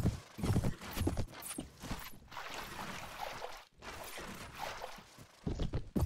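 Galloping horse hoofbeats in the Mount & Blade Warband battle, a busy clatter of hooves with scattered game effects, loud and steady through most of the stretch with one brief drop.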